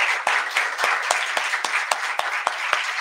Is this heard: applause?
yes